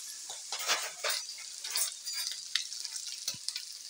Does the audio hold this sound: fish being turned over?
yes